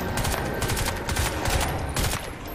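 Rapid bursts of automatic gunfire from Crysis 2, a dense run of loud, overlapping shots repeating steadily over a couple of seconds with no talk.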